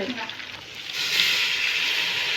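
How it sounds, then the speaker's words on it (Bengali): Boiled water is poured into a hot cooking pot where fish has been frying, turning a steady oil sizzle into a louder, sustained hiss and bubbling that continues to the end. "তো এই যে ফুটানো পানি দিয়ে দিচ্ছে"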